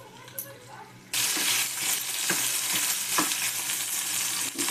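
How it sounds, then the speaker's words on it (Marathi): Tomato dropped into hot oil in a pan, sautéing for egg curry: a quiet start, then a sudden loud burst of sizzling that continues densely, with stirring scrapes and crackles close by. "टोमॅटो चांगला परतून घेते."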